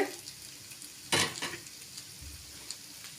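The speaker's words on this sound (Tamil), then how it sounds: "கலந்து விட்டுக்கோங்க நல்லா கலந்தாச்சு" Aloo methi sabji, a potato and fenugreek-leaf masala, stirred in a sizzling pan, with one sharp scrape of the spoon against the metal over a steady low frying hiss, then a few lighter taps.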